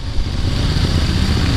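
A Moto Guzzi V7 Stornello motorcycle engine runs with a steady, close, throaty rumble and even pulsing beat, loud and alone.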